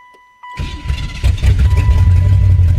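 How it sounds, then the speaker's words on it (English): A car engine with a freshly changed Holley carburetor cranks and catches after a quiet moment, then settles into a loud, steady, slightly rough cold idle with low rumbling throughout. "we got a key, and if you did everything right, it should start right up"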